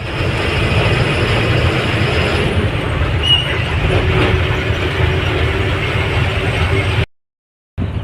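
Loud, continuous rumbling and clanking of rail wagons and machinery as a goods train is loaded with rice at Chityala, steady and close, ending in a brief cut to silence.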